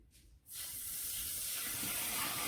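A sudden steady hiss and sizzle as almond milk is poured into a hot pan of thickening flour and spice garlic white pizza sauce, starting after a quiet half-second and continuing evenly.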